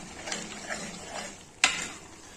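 Masala for black chana curry is stirred and roasted in a pan. Soft, faint scraping strokes come at intervals over a quiet sizzle, and one sharper clink of the utensil sounds near the end.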